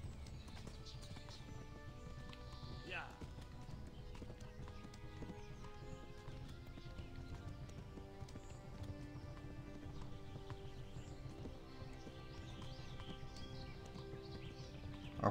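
Horse hooves galloping in the medieval video game Kingdom Come: Deliverance, a steady rapid clip-clop running throughout over a constant outdoor ambience with occasional faint bird chirps.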